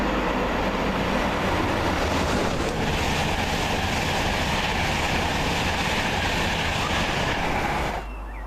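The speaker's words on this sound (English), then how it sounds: "There's actually a train coming" A train in Edinburgh rumbles steadily past close by, a continuous heavy roar with faint rhythmic clatter, cutting off abruptly at the end.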